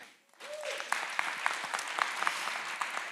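An audience at a county Title IX panel event applauds steadily, a dense wash of clapping that swells in and holds, with a faint voice briefly underneath at the start.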